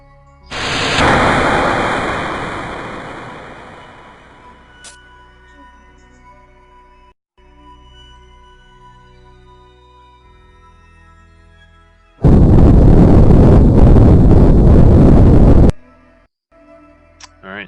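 Rocket engines roar in Kerbal Space Program during a jettison and all-engine ignition: a loud broadband blast at the start that tapers off over several seconds, then a second sustained, steady roar of about four seconds that cuts off abruptly.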